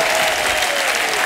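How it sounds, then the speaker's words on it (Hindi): Studio audience applause on a Hindi comedy talk show, a dense, steady burst of clapping heard alone and close for about a second. "जोरदार तालियां अन्ना के लिए।"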